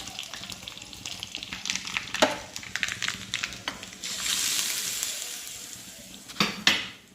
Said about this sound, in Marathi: आपली फोडणी छान तयार झालेली आहे। आपण ती आता या मुळ्यावरती ओतून घेऊया।